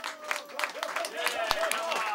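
Audience applause at the close of a live show at a vegetable wholesaler's event in Matsushiro, Nagano: steady clapping from a small crowd through the whole stretch, with a sustained tone underneath and brief vocal bits.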